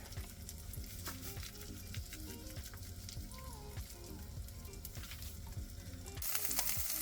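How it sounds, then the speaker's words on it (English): Eggs and sausage frying in a pan outdoors, a steady crackling sizzle with scattered pops and spits throughout, close and continuous, turning brighter and hissier near the end. "Once you got your eggs all fried up, your sausage is all cooked up"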